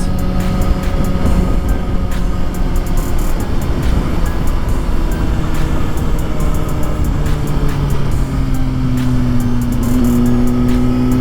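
A Suzuki GSX-R1000 sport motorcycle engine runs loud and close as the bike rides out, a steady droning roar whose pitch climbs and shifts through gear changes, with no talking.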